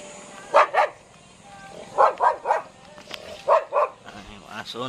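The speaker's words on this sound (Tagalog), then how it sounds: "Yung aso nagalit sa atin." A dog barks angrily in a rural Philippine province near a fishpond and coconut farm, firing several loud paired barks in quick bursts, fairly close, with a few softer yips between.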